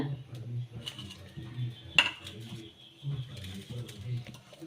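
A kitchen gas stove is lit with a sharp igniter click near the middle. Soft clattering of pots and utensils is heard around it, with a faint voice in the background.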